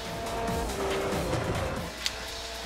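A race car in Forza Motorsport 4 works through corners at Road America, its engine droning with faint tire squeal under it before the sound drops away and a short sharp click lands near the end.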